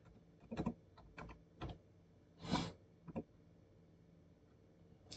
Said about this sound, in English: We're going to type in sessions.